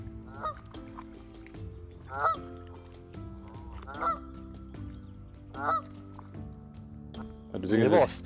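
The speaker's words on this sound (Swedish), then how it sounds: "Det var stora fåglar nu." Canada geese on open water honk in repeated loud bursts about every one to two seconds, with a louder flurry of calls at the end, while people talk quietly in the background.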